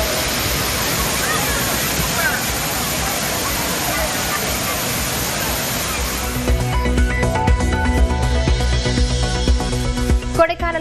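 A steady roar of a waterfall fills the first half, then gives way to louder splashing and mixed activity with clattering and voices of families bathing.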